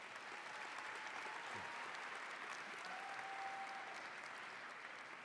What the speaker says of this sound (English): Those who have helped you so much, give them an applause.